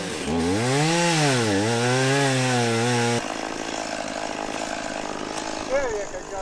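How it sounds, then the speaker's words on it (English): A chainsaw revs loudly with rising and falling pitch while cutting a fallen tree off a road in New Zealand, then settles into a steady, rough cutting drone. "I can hear a chainsaw."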